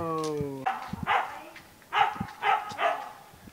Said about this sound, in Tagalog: Sila-sila lang yung mga alagang aso namin.